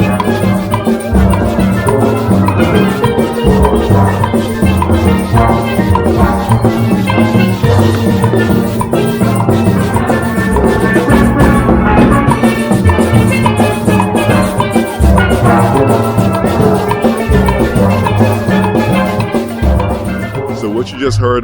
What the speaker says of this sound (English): What you just heard was Trini Steel Pan.